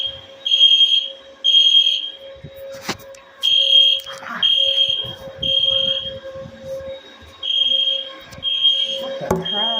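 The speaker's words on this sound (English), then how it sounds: "Our fire alarm's going off." A hotel room fire alarm sounds in loud, regular electronic beeping bursts, each about a second long with short gaps between them, and a clatter of room noise beneath.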